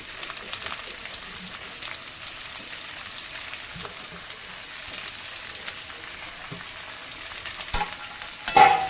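Onion and mixed vegetables fry in a pan with a steady, close sizzle and crackle and a few stirring clinks near the end, alone without talk.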